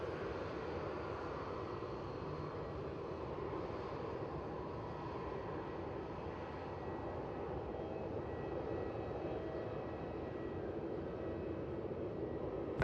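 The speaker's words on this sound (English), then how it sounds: "runway 16 cleared for takeoff" An aircraft takes off from runway 16 at Melbourne Airport: a steady, distant engine roar holds at an even, moderate level throughout, with no other sounds standing out.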